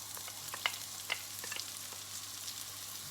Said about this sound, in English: I'm going to put 1 medium-sized onion chopped finely into the mix.